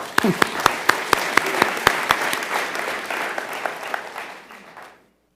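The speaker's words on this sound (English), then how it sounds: "everybody a round of applause for that." City council meeting audience applause with sharp individual claps standing out early, then thinning and fading to silence after about five seconds.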